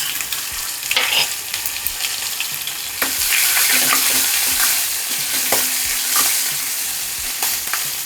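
Mustard seeds, asafoetida and chillies sizzle and crackle in hot oil, a steady close frying hiss with occasional popping and stirring sounds, and no talking.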